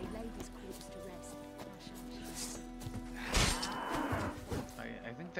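Cow mooing in a video game, a low drawn-out call heard amid game music and sound effects, with a louder crash or burst of noise midway through.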